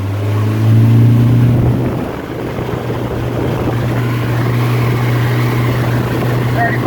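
A 1998 Nautica RIB 14 inflatable motorboat accelerates onto plane, its outboard engine droning loud and close with a steady low pitch that rises slightly then holds at cruise speed, with wind and water noise underneath.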